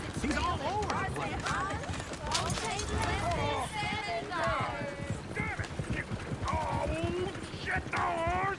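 Horses' hooves clip-clop steadily on the ground in the Western video game Red Dead Redemption 2, a dense rapid patter with occasional whinnies, while voices talk over it throughout.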